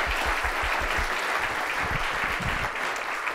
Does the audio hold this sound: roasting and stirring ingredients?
no